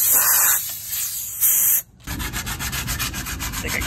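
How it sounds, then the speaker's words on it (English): Hand sanding of a repaired wooden chair with 120 grit sandpaper gives a close, loud rasping that pauses briefly before a steadier back-and-forth scrubbing rhythm. "I'm gonna sand this by hand."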